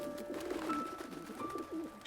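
Pigeons coo softly in short repeated throaty phrases close by, with a faint background hum.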